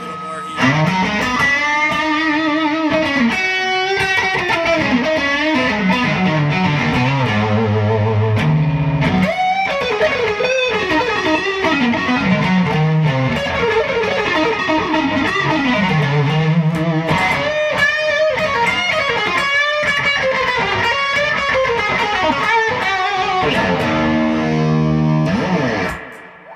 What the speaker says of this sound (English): There's a distortion side of the King of Tone I could put on too